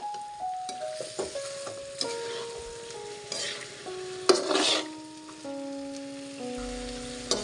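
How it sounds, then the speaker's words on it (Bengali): Chana dal stirred and fried in a pan for an iftar dish, a steady close sizzle broken by scraping stir strokes, with a soft melodic tune running underneath. "ছোলার ডাল দিয়ে এখন একটু নেড়ে চেড়ে নিচ্ছি"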